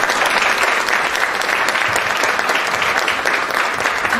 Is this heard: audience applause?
yes